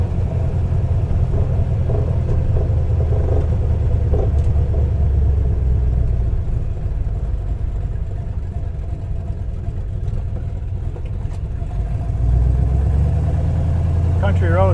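A Road Runner engine with an added muffler idles with a deep, steady rumble for the whole stretch, loud and close, its low drone barely changing.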